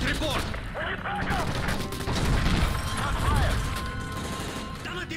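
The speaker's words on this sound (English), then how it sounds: "That's gunfire! Hijackers are taking the place!" Gunfire in Call of Duty: Modern Warfare 3, in the Persona Non Grata mission, where hijackers storm the place: a dense, continuous clatter of shots under urgent shouted voices.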